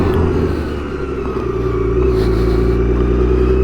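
Flashed BMW K1600 GT motorcycle pulling hard in first gear, a loud, steady six-cylinder roar with deep rumble building slightly as it accelerates, close by and continuous with no talking.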